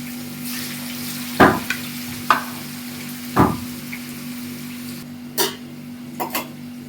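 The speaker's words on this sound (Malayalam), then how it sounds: "എല്ലാം കൂട്ടി തിരുമി വെച്ചിരിക്കുന്ന ചിക്കൻ പീസ് വെളിച്ചെണ്ണയിലേക്ക് ഇടാമാണ്" Chicken pieces rubbed with spices hit hot coconut oil in a home kitchen, giving a steady close sizzle with several sharp crackling bursts and stirring clatters spaced through it; no voices.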